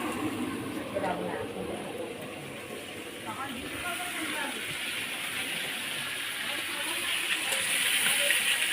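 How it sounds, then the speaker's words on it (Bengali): Water running steadily from a tap while fish are washed at home, a hissing, gushing stream heard at moderate level with voices talking faintly in the background. "মাছ ধোয়া চলতেছে।"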